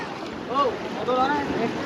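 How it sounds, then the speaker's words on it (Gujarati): Sea waves wash steadily along the Haji Ali seafront in Mumbai, a continuous broadband rush mixed with wind, while people talk close by. "મોજે દરિયા મોજે દરિયા"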